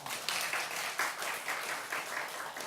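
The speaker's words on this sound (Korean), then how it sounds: "박수." Church congregation applauding after a sermon, a steady spread of many hands clapping at moderate distance, fairly soft and continuous without talk.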